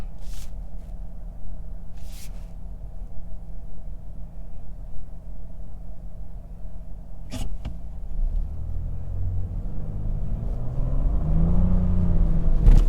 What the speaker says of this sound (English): See, the 3-cylinder does make a unique sound, definitely different from your run-of-the-mill 4-cylinder.